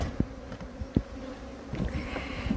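Honeybees hum steadily around a beekeeper's hives, a dense close buzz punctuated by a few sharp knocks and taps.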